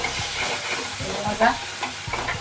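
Tomato pieces sauté in hot oil in a home kitchen pan, giving a steady close sizzle with occasional stirring scrapes and a brief louder hiss partway through.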